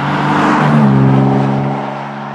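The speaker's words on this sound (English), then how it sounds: "This straight six is a glorious engine from some of BMW's best days." A BMW straight-six engine in a Z3-based kit car revs loudly with a deep, throaty exhaust note, pitch rising and holding steady before easing slightly, with no voices.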